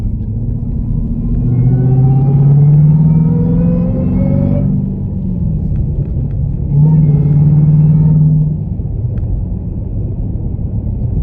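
A Jeep Trackhawk on studded tires drives along an icy road in bitter cold, its engine a loud, steady rumble with tones that climb, cut off briefly, then climb again.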